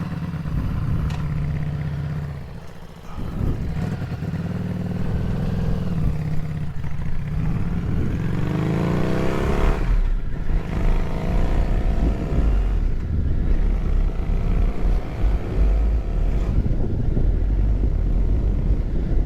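Wind buffeting a microphone while riding a Harley motorcycle, a loud continuous roar and rumble that swells as speed builds, with engine drone underneath and no talking.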